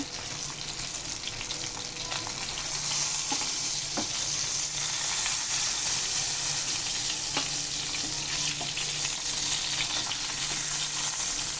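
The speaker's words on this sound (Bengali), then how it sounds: "আমি মাছগুলো ভেজে নিই, তারপর আসছি" Koi fish fry in a pan of hot oil, giving a continuous, even sizzle with small crackles and pops throughout and no voices.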